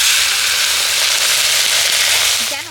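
Hot mustard oil hitting green chilies for a quick pickle, giving a loud, steady crackling sizzle that holds throughout and eases off slightly at the end, with no talking.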